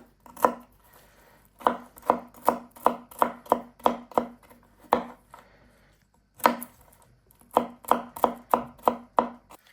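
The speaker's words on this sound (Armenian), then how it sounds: "Հարկավոր է մանր կտրատել անկույզը։" Walnuts are chopped finely with a knife on a cutting board, close sharp knocks in quick rhythmic bursts of several strokes separated by short pauses.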